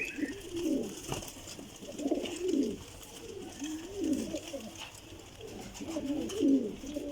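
Flying-breed pigeons, including Sialkoti, coo in low, throaty rolling phrases, several calls repeating close by over a faint background hiss.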